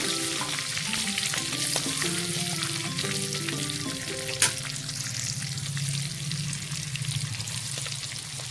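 Prawns sizzle steadily in a hot pan, a dense, continuous frying hiss that stays loud and close for the whole stretch, with a brief sharper spike partway through.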